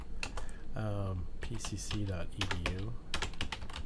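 Computer keyboard keys clatter in quick, uneven bursts as an nslookup command is entered, the clicks running under and between steady close-up speech.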